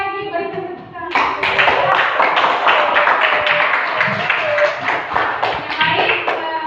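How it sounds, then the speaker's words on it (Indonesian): Classroom group of schoolchildren clapping, a short spoken lead-in giving way to a burst of brisk, fairly loud applause that keeps a lively, slightly uneven rhythm, with voices mixed in. "Sekali lagi berikan tepuk tangan"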